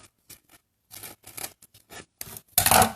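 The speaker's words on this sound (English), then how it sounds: "So these are going to get carved out with the scissors." Scissors snip and rasp through thick burlap-backed linocut material in a series of short crunchy cuts, close up, ending in a louder sustained cut.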